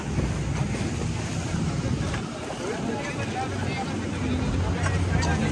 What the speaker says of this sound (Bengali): এইখানে খালি একেবারে ঢেউ আর ঢেউ